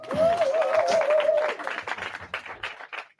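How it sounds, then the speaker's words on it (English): A workshop audience applauds, scattered clapping swelling and thinning over a few seconds, with a short vocal whoop at the start. "round of applause"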